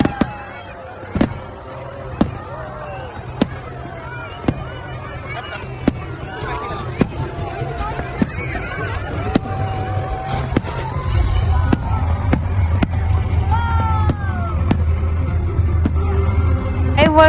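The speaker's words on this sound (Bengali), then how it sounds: "fire work started" Fireworks burst at the opening of the 14th edition of Qatar's 2025 food festival: a series of sharp, evenly spaced bangs about a second apart over crowd murmur and a low hum, with people talking.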